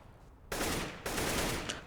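An AK rifle firing in a CS:GO match, with two loud, sustained bursts of rapid automatic shots, the second starting right after the first ends.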